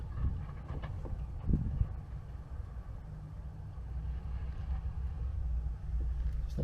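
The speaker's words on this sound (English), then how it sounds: "it's quite a breezy day" Steady wind buffets the microphone with a low rumbling roar, continuous throughout, with occasional gusty swells.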